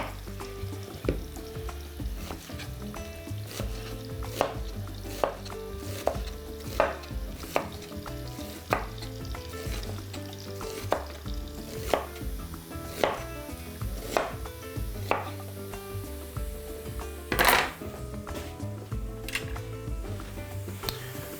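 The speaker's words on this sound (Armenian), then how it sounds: "կկտրատեմ գլուխսողերը փետրաձև։" Steady, rhythmic knife chopping of two large onions on a board, many quick close strikes over sizzling frying in the background, with a louder clatter near the end.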